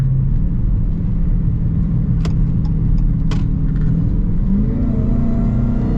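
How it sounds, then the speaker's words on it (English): A Dodge Challenger Hellcat engine in manual mode rumbles steadily with a deep, throaty exhaust note, rising slightly near the end, with a couple of sharp clicks in between. "Ooh, the exhaust in this one, just brutal."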